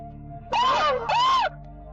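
A woman screaming, captured on a car's rear-facing camera: two loud, wavering shrieks in quick succession, each under a second, over a low steady hum.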